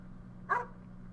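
Flint, the dog in Parasite Eve II, lets out a single short bark, clear but modest in volume over a low, steady game background hum.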